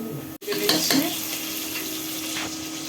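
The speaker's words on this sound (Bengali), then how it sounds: "নতুন পেঁয়াজ একটু লবণ দিয়ে দিলে কি হয় তাড়াতাড়ি ভাজা হয়ে যায়" Fresh onions with a pinch of salt fry in a pan, giving a close, steady sizzle after a brief gap, with a couple of stirring scrapes near the start.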